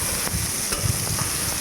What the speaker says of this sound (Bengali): তো আমি সয়াবিনটা ভেজে নিচ্ছি।